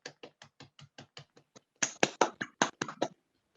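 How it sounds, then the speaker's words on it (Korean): An audience at an indoor forum session claps hands in encouragement: a run of evenly spaced single claps, then a louder, denser burst of applause that stops abruptly. "우리 서로 박수로 한번 격려하면 어떨까"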